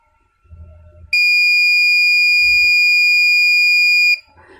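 A piezo buzzer alarm driven by an Arduino sounds one loud, steady high-pitched tone for about three seconds, with faint handling noises before and after.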